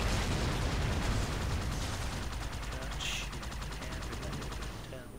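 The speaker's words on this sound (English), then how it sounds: "just shoot everything until it blows up" Constant dense gunfire from a video game, a dense continuous barrage of rapid shots and blasts filling the whole stretch, loud and unbroken, with no clear talk over it.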